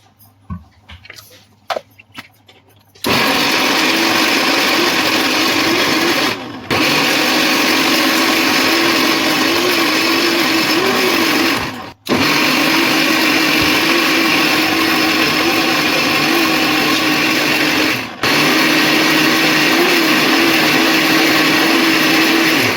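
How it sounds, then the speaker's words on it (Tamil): A mixer grinder whirs loudly and steadily for about twenty seconds, grinding guava chutney to a paste, with brief stops between bursts, after a few quiet clinks at the start. "மிக்ஸி ஜாருக்கு மாற்றிட்டு குறைன்னு இல்லாமல் நல்லா பேஸ்ட்டாக நல்லா அரைச்சிக்கோங்க"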